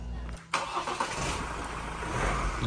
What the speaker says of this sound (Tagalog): So, kita natin na umandar siya.